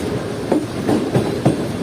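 Karachi Express passenger train rolling steadily on its rails, with a continuous rumble and rhythmic clickety-clack wheel beats recurring about every half second.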